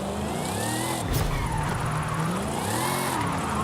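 A big long-wheelbase car drifting in Forza Horizon 5, its engine revving up and down in sweeping rises with tire noise, loud and close throughout.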